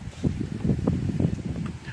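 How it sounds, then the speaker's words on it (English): Wind gusting outdoors beside a hobo stove during a cooking session, a low, continuous rumbling buffet against the microphone that pulses in strength for a couple of seconds. "the wind is trying to blow everything everywhere"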